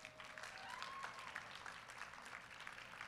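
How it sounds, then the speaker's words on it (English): Applause from the crowd at a college powerlifting nationals medal ceremony, a steady patter of clapping that sounds distant and faint throughout. "Give him one more round of applause."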